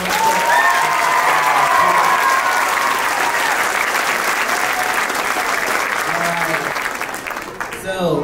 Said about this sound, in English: please just give a big round of applause for you